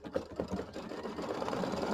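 An embroidery machine stitching a quilt block, a steady, fairly quiet mechanical whirring and patter of rapid needle strokes, heard alone without talk.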